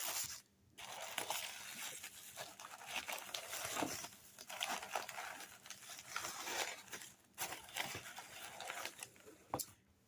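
Tissue paper crinkles and rustles as a package is unwrapped, coming in close, irregular bursts of crackling with short quiet gaps.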